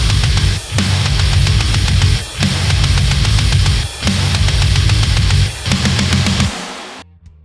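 Industrial metal track plays loud and dense with full instrumentation: heavy low-end riffing and drums in steady sections broken by brief gaps, then a sudden cutoff near the end.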